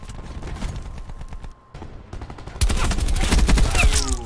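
Rapid SMG bursts from Black Ops 4 gameplay, dense rattling fire that drops out briefly mid-clip, then returns much louder and more sustained with extra crackling impacts.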